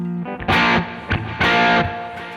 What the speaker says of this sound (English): You can also add a sound with more distortion.